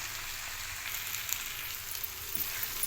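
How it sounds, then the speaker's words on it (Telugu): Mutton fries with chili powder in a pan, giving a steady, fairly quiet sizzle with faint scraping from stirring throughout. "ఇప్పుడు తగినంత కారం, వేసి కలుపుకోవాలి."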